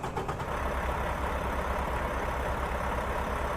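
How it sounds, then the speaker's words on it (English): The diesel engine of a Mack Anthem truck in American Truck Simulator churns close and steady, a low rumbling idle just after starting. "it has like a more diesel Detroit sound, but nothing too fancy"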